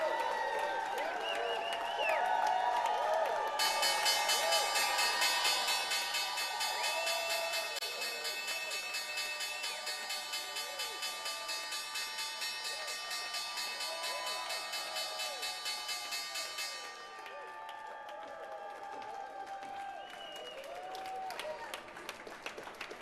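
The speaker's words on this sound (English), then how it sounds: "You hear the crowd. They're hyped up for the show as well as for the bell." A crowd claps and cheers through a closing bell ceremony with a Wisconsin School of Business team. A long, continuous electric bell rings bright and loud over the applause for about thirteen seconds, then the clapping tapers off.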